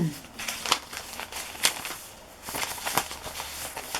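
Several sheets of wrapping paper and a paper tablecloth are handled up close, giving irregular crisp crinkles and rustles with a few sharper snaps.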